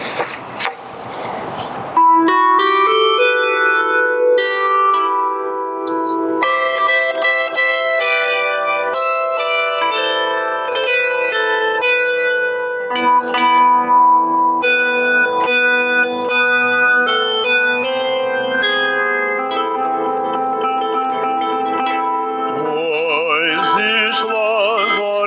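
Plucked bandura strings carry a Ukrainian song orchestrated by Leontovich in a sustained, resonant melodic line with chords, loud and close, with no talk over it.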